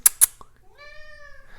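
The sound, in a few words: cat meowing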